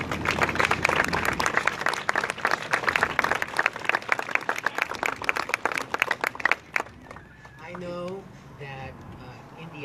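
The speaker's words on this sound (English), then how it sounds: "big round of applause" Loud, dense applause from an outdoor crowd at a park dedication ceremony, thick clapping for several seconds that thins and stops, leaving quieter background sound with a few voices.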